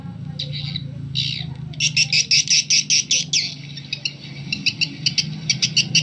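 A recorded swiftlet call used to lure swiftlets plays as quick bursts of high chirping and twittering in irregular clusters, loud and close over a low background hum.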